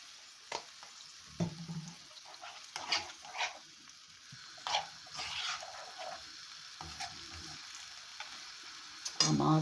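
Jamaican-style brown stewed beef sizzles in a pot after dark soy sauce goes in, with repeated scraping spoon strokes stirring it in an uneven rhythm close up.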